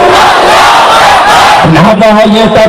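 Large crowd at an Islamic gathering roaring the takbir chant in unison, loud and dense, with a single voice rising over the mass of shouts toward the end.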